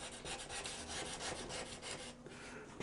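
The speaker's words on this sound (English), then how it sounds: "you just wanna scrape that nasty stuff off" A scraper is worked across a glass-top stove to lift burnt-on residue, giving quick repeated rasping scrapes in a steady back-and-forth rhythm, close and fairly quiet, with no talking.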